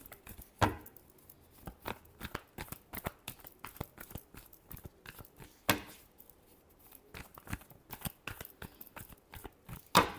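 Tarot cards shuffled close up for a reading: irregular dry slaps, flicks and riffles of the deck, with a few louder snaps as the cards are cut and set down, no voice.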